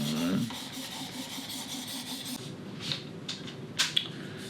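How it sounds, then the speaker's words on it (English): A knife blade is polished on a Worksharp Professional Precision Adjust Elite ceramic hone, giving a steady soft rasping rub that stops midway, followed by a few faint light scrapes and taps. "From this point forward, we're polishing this blade to get it as sharp as possible."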